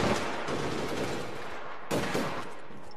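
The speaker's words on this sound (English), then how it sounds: "Somebody's shooting me in the back." Rapid automatic gunfire rattles loudly in the APB Reloaded video game, a dense continuous burst with a sharp fresh volley partway through.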